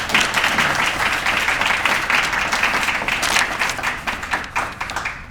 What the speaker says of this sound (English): Please help me salute all of them with a well-deserved round of applause